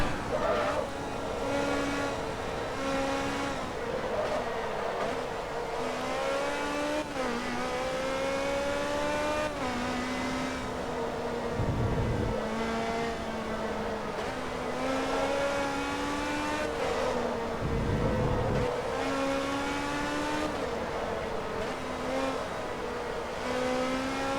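A race car engine lapping Suzuka in Forza Motorsport 2, loud and continuous, revving up through the gears with repeated shift drops and brief tire squeal, no talk.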